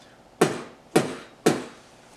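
Voice imitating a beatboxed kick drum, three short punchy thumps evenly spaced about half a second apart, close and dry.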